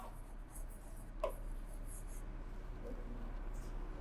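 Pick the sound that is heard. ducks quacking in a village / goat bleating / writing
writing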